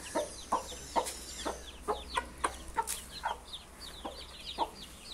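Chickens, a hen with her chicks, cluck at a farmyard feeding spot as feed is put out, a steady run of short close clucks and peeps with high chirps over a faint low hum.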